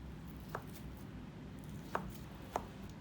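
A knife cuts hawthorn cake into small dice on a cutting board, giving three faint, sparse taps against a quiet background.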